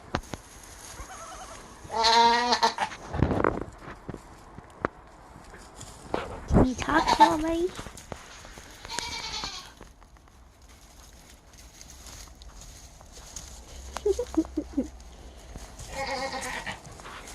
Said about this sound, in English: Who doesn't love baby goats?